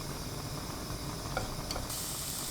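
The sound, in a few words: minced garlic stir-frying in oil in a pan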